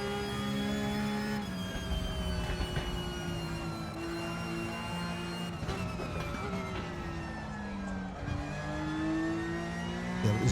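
Porsche Cup race car in a racing video game, engine note droning steadily with rising and falling pitch as it accelerates and shifts, loud and continuous throughout.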